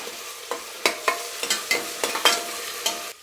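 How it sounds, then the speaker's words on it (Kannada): Ginger garlic paste frying in a pan while a spoon stirs it, with about a dozen sharp, evenly spaced scraping strokes over a soft, steady sizzle, close and alone. "ಶುಂಠಿ ಬೆಳ್ಳುಳ್ಳಿ ಪೇಸ್ಟು ಹಸಿ ವಾಸನೆ ಹೋಗೋವರೆಗೂ ಸ್ವಲ್ಪ ಫ್ರೈ ಮಾಡ್ಕೋಬೇಕಾಗತ್ತೆ."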